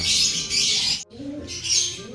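A pet bird calls steadily in a bright, busy chatter with soft cooing tones, close and fairly loud, breaking off briefly midway before carrying on.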